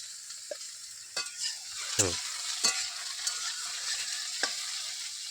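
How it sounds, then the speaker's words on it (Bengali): Ridge gourd and potato pieces fry in hot oil, making a continuous bright sizzle close by, with several stirring scrapes and knocks of a spatula against the pan and no voices. "তেল গরম করে রাতে ঝিঙা আলু দিয়ে দিয়েছে"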